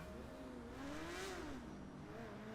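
A motorcycle engine revs in Grand Theft Auto V, its pitch rising and falling smoothly in one continuous, fairly quiet drone.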